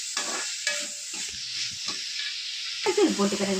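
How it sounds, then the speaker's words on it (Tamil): Crushed garlic sizzles in a hot pan, a steady close frying hiss with brief stirring sounds, while someone speaks over it. "இதுலேயும் பூண்டு தட்டி போட்டுக்கிறேன் கொஞ்சம் வதங்கட்டும்"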